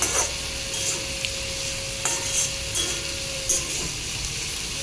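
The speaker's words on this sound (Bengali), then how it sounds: "এই যে কচু ভাজাটা প্রায় হয়ে গেছে" Pieces of taro fry in a pan, giving a steady soft sizzle with a few scraping stirs and light knocks throughout, close and moderately loud, with a faint steady hum running underneath.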